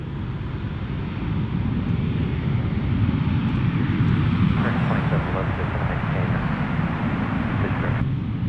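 An American Airlines Airbus A321 in Stand Up To Cancer livery passes by at DFW airport, a steady loud engine roar that swells midway, with someone talking over it.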